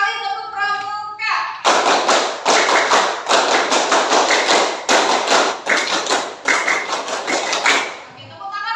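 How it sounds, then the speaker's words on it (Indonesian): A class of children performs the Indonesian scout clapping pattern (tepuk pramuka) twice, loud rhythmic group claps in quick sequences with brief pauses, following a short spoken cue beforehand. "2 kali tepuk pramuka."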